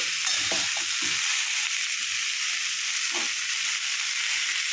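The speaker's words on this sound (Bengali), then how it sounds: "ফুলকপিটা ভালো করে ভাজতে হবে।" Cauliflower florets fry in a pan for a Bengali korma, giving a steady, even sizzle with a couple of soft stirring knocks, close and uninterrupted by talk.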